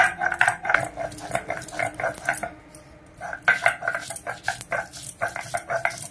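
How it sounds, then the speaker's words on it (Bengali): Poppy seeds and melon seeds are ground by hand for egg posto, a close series of rhythmic scraping and rubbing strokes that pause briefly midway and then resume at the same steady pace. "পোস্ত আর চাল মগজটা বেটে নিচ্ছি ডিম পোস্তর জন্য"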